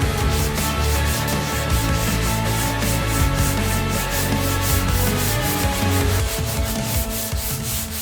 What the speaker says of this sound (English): we're gonna have to sand down the fenders, add some body filler, and then completely block it so it's smooth with the hood